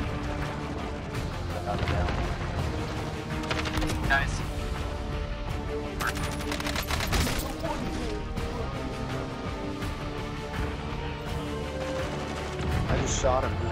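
Grenade launcher blasts and gunfire in the video game Warzone, dense repeated booms and cracks running continuously under excited players' voices talking over the action.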